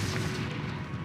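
A fiery Confringo spell blast from the video game Hogwarts Legacy, a dense, sustained booming burst like artillery fire filling the short moment at steady loudness, with no voices.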